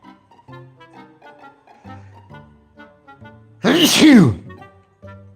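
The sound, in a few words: sneeze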